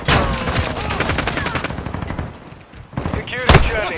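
Rapid video game gunfire, dense automatic bursts close and loud, easing briefly before a sharp blast near the end, with radio-style voices speaking under the shooting.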